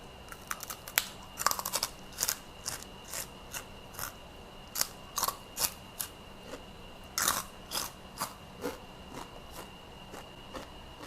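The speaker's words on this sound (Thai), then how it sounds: "อ้าวเคี้ยวให้ฟังนะคะ" Crunchy bites of crispy, fat-free pork cracklings being chewed up close, a rapid series of sharp, crackling crunches with short pauses between bites, loud and alone with no talking.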